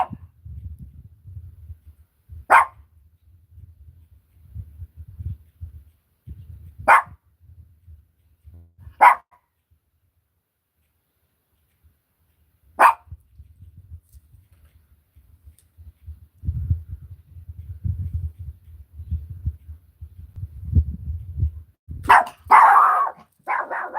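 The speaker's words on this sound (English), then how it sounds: "I think Wendy's barking at the neighbors" A dog barks at the neighbours from a cabin property where people are camping off grid: four single, far-off barks spaced several seconds apart over low rumbling background noise, with a brief burst of higher yipping near the end.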